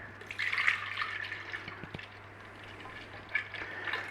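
Evaporated milk pours into a container for homemade Irish cream, a soft liquid trickle and splash up close, with a couple of light taps and no speech.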